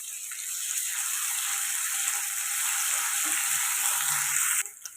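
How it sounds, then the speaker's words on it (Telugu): Ginger garlic paste frying with onions for drumstick curry, a loud continuous sizzle close up that holds steady and cuts off near the end. "ఇది పచ్చివాసన పోయేదాకా ఫ్రై చేసుకుందాం"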